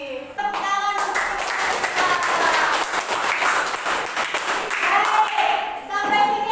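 A class of students claps together in a school lesson, a sustained burst of hand clapping that rises quickly, holds steady for several seconds, then stops, with a voice heard briefly around it.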